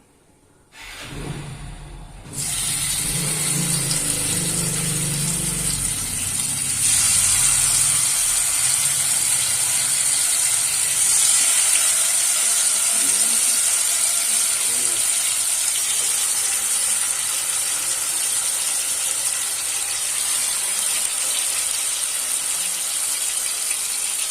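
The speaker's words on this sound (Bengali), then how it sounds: "এবার চিকেনগুলোকে আমি হালকা ফ্রাই করে নেব" Marinated chicken pieces land in a hot pan with a loud hiss that settles into a steady, bright sizzle of light frying, continuing evenly for a long stretch, with faint household noise early on.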